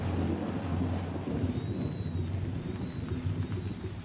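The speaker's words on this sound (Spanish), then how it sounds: "empezó a llover." Rain falls with rumbling thunder in a storm, a steady dense patter and low rolling rumble holding at moderate level for a few seconds, with a faint high whine drifting over it.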